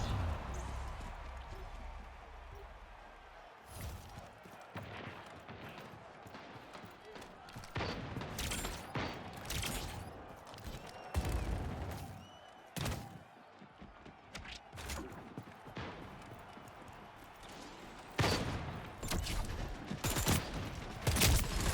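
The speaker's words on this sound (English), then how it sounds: "It's like a submachine gun." A submachine gun fires in bursts in the video game Splitgate Arena Reloaded, with repeated sharp volleys scattered across a quiet arena background and gaps between them.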